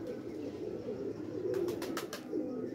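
Pigeons coo softly beneath a steady low background hum, with a short burst of rhythmic pulsing notes near the middle and no talking.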